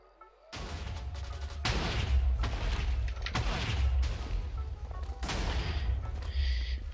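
Cannons firing in a Minecraft cannon war match between two teams, heavy booming blasts and crashing impacts over a constant low rumble, loud and close, several shots in quick succession.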